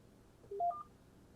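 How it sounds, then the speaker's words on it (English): A short series of soft keypad beeps from an AT&T DECT DL72219 cordless phone, three quick electronic tones stepping upward in pitch, over a quiet background hiss. "You hear a beep and it has been saved."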